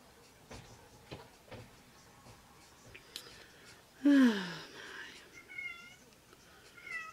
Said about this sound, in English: you're probably going to hear my kitty in the background